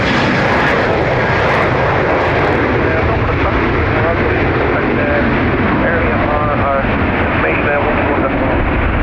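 A fixed-wing airliner roars loudly and continuously while departing Dublin Airport, a broad, steady engine rumble that fills the whole stretch with no break.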